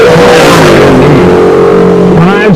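A drag racing car at a Midwest drag strip accelerates hard down the quarter mile, its engine tone sweeping steadily upward with a loud, continuous roar that shifts pitch near the end.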